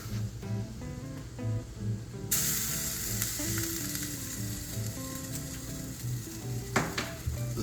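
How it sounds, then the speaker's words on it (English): Bacon and oil sizzle in a pan as pasta water hits it, with a sudden burst of bright hissing partway through that holds steady over a lower bed of cooking noise. "The sizzling's starting to calm down"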